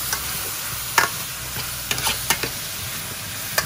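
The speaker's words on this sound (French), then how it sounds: "Vous mélangez bien." Spiced couscous royal ingredients are stirred in a frying pan, with a steady sizzle under scattered scraping clicks of the spoon against the pan, close and clear, with no talking.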